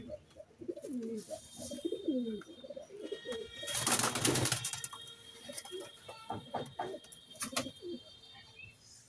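Madras pigeons coo in soft, repeated throaty calls in a loft, then a burst of wing flapping erupts close by, followed by scattered rustling and a few more coos.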